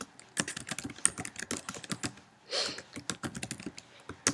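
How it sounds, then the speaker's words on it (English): Rapid clicking keystrokes on a computer keyboard as instructions are typed into an online classroom assignment, a steady near patter of taps with a brief pause midway and no talking. "you can type in any instructions that you want"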